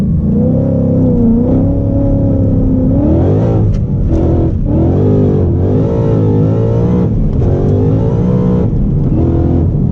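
A supercharged Ford Mustang 5.0 accelerates hard from a standstill on a street in Mexico. The loud, close engine note climbs steadily in pitch, with brief dips at each gear change, and no one speaks.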